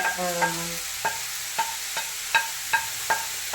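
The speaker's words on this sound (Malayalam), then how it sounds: "പതുക്കെ ഒന്ന് ഇളക്കിയിട്ട്" A spatula scrapes and taps in a pan of mulberry leaf stir-fry, giving about eight sharp, evenly spaced strokes over a soft steady sizzle, close and without talk.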